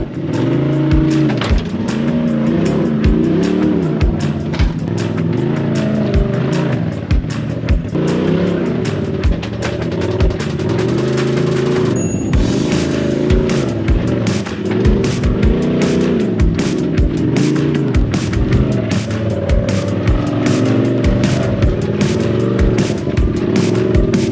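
A UTV on MRT Rocky RX tires crawls and bounces over rocks, its engine loud and close throughout, revving in repeated surges with clattering knocks and scrapes from the terrain.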